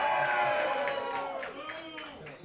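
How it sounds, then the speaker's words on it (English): A small audience cheers and whoops for two boys lacrosse players at a pizza restaurant, with voices shouting and clapping over a lively crowd that tapers off. "Give them a round of applause, please."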